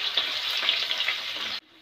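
Garlic and ginger sizzle steadily in hot oil in a pan while being stirred for a spicy mushroom curry, a continuous bright frying hiss with soft scraping that cuts off abruptly near the end.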